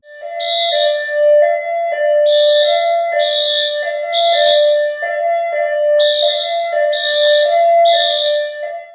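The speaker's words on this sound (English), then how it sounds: "School janitor finds herself alone in the building when the alarm suddenly triggers for no apparent reason." Fire alarm going off in an empty elementary school building at night, a loud repeating electronic tone pattern in steady pulses with short gaps, heard alone without voices.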